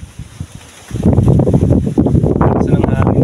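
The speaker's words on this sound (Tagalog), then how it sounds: "Lakas ng hangin guys." Strong wind gusts at a motocamping campsite, blustering against the microphone in a loud, rough roar that builds after a quieter start.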